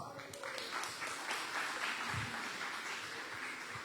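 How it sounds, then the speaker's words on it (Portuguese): A church congregation applauds in a steady, dense wash of clapping that holds at even loudness throughout, with faint voices mixed in beneath it. "Pode aplaudir Jesus."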